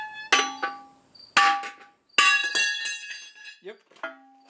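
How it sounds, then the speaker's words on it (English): Hammer blows knocking a clutch part off during a Ford 347 stroker flywheel and clutch job: three sharp metallic strikes spaced about a second apart, each ringing briefly, followed by a faint clink. "I'm just going to bonk it with a hammer and hopefully it falls off."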